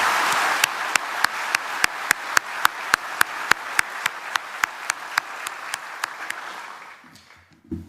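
A city audience at a state-of-the-city address claps in a slow, regular rhythm of sharp, loud claps that gradually fade away, preceded by a softer wash of applause.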